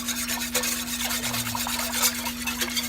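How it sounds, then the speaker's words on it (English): Whisk scraping and rubbing through chicken a la king sauce in a pan on medium-high heat, a continuous rhythmic swish close by over a faint steady hum. "And now we can stop with the whisk since everything's blended."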